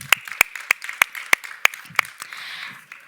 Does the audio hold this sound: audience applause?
yes